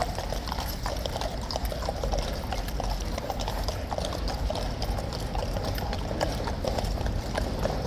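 Horse hooves clip-clopping in a steady rapid rhythm under a constant noisy outdoor background, near the King's Guard in London.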